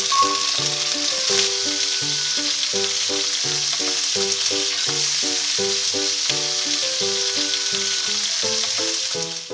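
Steak cuts and a hamburger patty sizzle steadily in a pan, a continuous close frying hiss with background music over it throughout.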